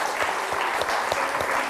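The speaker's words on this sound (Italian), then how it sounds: "Fatevi un applauso che siete stati bravi." Schoolchildren applauding themselves at the end of a junior quiz show episode, brisk, close clapping from a small group, steady and fairly loud for a brief burst.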